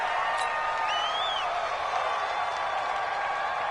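A stadium crowd roars in an American football video game set at Seattle, a steady loud wash of cheering and applause with faint whistle-like tones and a voice underneath.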